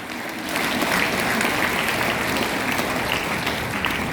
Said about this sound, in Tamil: இது புரிஞ்சிருந்தா கைதட்டல் வேற மாதிரி இருக்கும்.